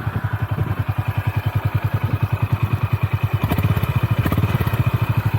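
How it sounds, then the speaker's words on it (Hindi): Motorcycle engine idling with exhaust note, from a Honda Hness or Yamaha FZ25, a steady rapid low thumping pulse close by, slightly rising in intensity midway, with no talk. "अभी हम दोनों गाड़ियों का जो एग्जॉस्ट है उसका थोड़ा कंपैरिजन करते हैं।"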